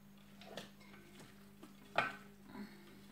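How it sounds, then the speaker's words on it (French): A spoon stirs turkey with cream, leeks and bacon in a pan, giving a few soft scraping knocks and clinks over a quiet low hum, close and gentle. "je vais remuer un petit coup"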